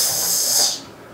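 A voice imitates a snake with one long breathy hiss that fades out after about a second.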